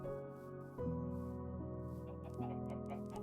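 Chickens clucking on a self-filling egg farm in Minecraft, a steady run of short clucks and tonal game sounds layered together at moderate volume, with no talk.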